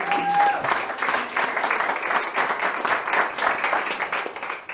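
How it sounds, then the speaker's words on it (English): A crowd applauds at a luxury interior design panel event in Greenwich, Connecticut, with steady, dense clapping that fills the room for the whole stretch without a break. "So I want to give a round of applause for everybody who came out, for you guys,"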